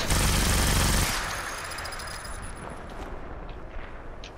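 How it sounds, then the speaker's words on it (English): A Gatling plasma weapon fires at a wall in Fallout 76: a loud, dense buzzing burst for about a second, then a reverberant rumble that slowly fades. "Gatling plasma."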